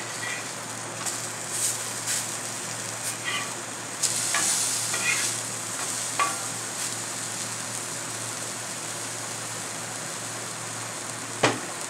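Brinjal roast fries in oil in a pan with a steady, close sizzle and crackle, a few louder spits and stirring clinks rising briefly, and no voices.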